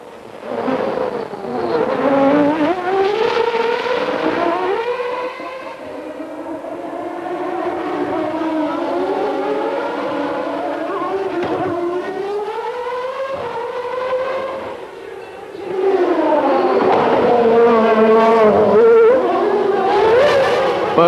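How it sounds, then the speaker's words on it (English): A 1994 Formula One car engine screams through a qualifying lap, its high-pitched whine rising and falling with each gear change for about twenty seconds, loud and continuous, with no talk. "Mika Häkkinen puts in a blinding lap to edge himself into pole position"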